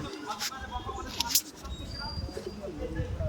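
Pigeons cooing nearby in soft, low, throaty calls, partly masked by someone talking over them and by other bird chirps.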